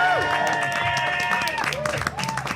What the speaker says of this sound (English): can we have first of all a round of applause for Bernard, Natalie, and Stephen?